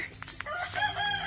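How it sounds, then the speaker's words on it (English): A rooster crows once at a moderate distance, a brief rising call that stands out over a quiet outdoor background. "You see that rooster?"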